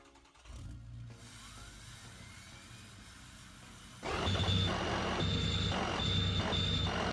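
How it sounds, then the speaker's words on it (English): A Ford F-350 with the 6.0 Powerstroke diesel and a huge turbo idles in the BeamNG Drive video game. The engine starts to a steady hum, then grows louder and is joined by a repeating high pulsing whine. "So it makes this weird sound, and I think it does that because of the turbo."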